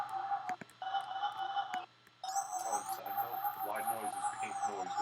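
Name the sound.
synth sample with sine shaper effect toggled on and off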